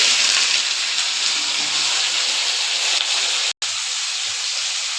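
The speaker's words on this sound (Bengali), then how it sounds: "আলুটা তো আমি ভেজে নেব" Potatoes frying in hot mustard oil in a pan, a loud, steady, close hiss of sizzling that holds evenly for several seconds, broken only by a brief dropout near the end.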